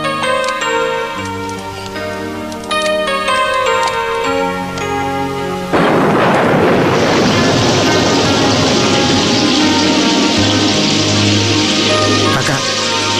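Heavy rain comes in suddenly partway through, a loud, dense hiss that replaces the tinkling, ticking music that came before and carries on steadily to the end.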